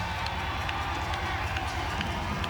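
A WNBA basketball arena crowd in Las Vegas rises and cheers in a dense, steady roar that fills the whole moment, with an announcer's voice faintly mixed in.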